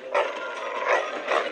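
A dog sniffing for hidden chocolate gives three short, whiny barks or yelps in quick succession, fairly close and clear.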